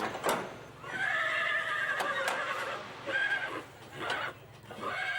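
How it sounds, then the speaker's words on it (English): Several horses neigh and whinny in repeated loud calls at a Palio horse race event in Montagnana, Italy, with faint hoof clip-clop between the calls. "I'm sure that these horses would like to race, but unfortunately, they can only go round in circles."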